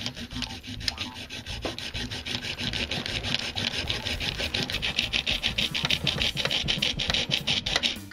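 Plastic is filed away from the trigger lock of a Nerf Rapidstrike blaster in quick, steady rasping strokes, a close, rhythmic scraping that continues throughout without speech.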